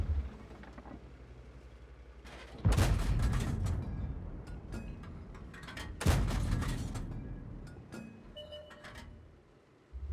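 Artillery fire in a tank battle game lands as two heavy booming blasts a few seconds apart, each loud and sharp at onset and then decaying into a rumbling tail over engine noise.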